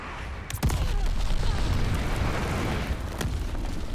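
A grenade detonates in Call of Duty: Vanguard, a sudden broad boom that rolls into a sustained rumbling blast with scattered debris-like crackle, loud and close, with no talk over it.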